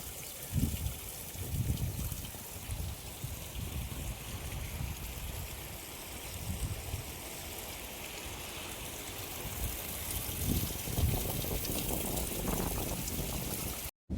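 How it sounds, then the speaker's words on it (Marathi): Water seeps out of the ground and runs downhill outdoors, making a continuous rushing trickle over a low, rumbling wind-like noise that holds steady the whole time. "जिरून पाणी येत आहे खाली, किती भारी वाहत आहे बघा."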